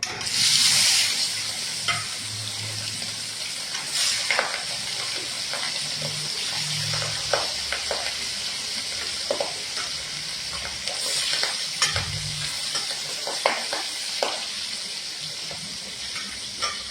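Rupchanda fish pieces fry in hot oil, giving a loud, continuous sizzle close by, broken by occasional clinks and scrapes of stirring.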